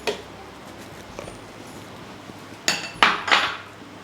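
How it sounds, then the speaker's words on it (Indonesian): Plastic and metal clacks as a dough hook is fitted onto the blade adapter of an Idealife IL-222 food processor: a faint knock early, then three sharper clicks close together near the end. "Jadi kita tinggal install aja aksesoris pengadon tepung ini ke adaptor pisaunya."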